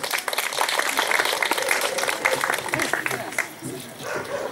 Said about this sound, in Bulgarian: Нека да аплодираме децата от целодневна детска градина Теменуга за тяхното изпълнение